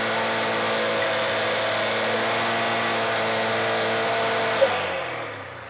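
A Bajaj Calibar 115 motorcycle engine runs steadily at close range with a smooth even drone, a brief knock near the end, and then slightly fades.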